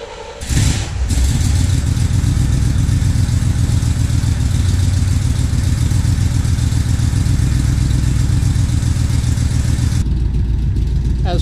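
A 1979 Corvette engine warms up close by with a loud, steady low rumble. After a brief start it holds an even idle, and the tone changes slightly near the end.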